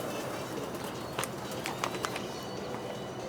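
Racing pigeons in a loft entered in a Texas one-loft race, heard as a soft, continuous bird murmur with a few faint coos and brief flutters over steady background noise.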